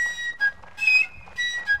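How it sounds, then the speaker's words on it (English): A glitched flute melody from Mount & Blade: Napoleonic Wars plays as short, bright, piping phrases in a quick rising and falling pattern, clear and close with nothing else over it. "I've somehow glitched it where I'm playing the flute without actually playing the flute."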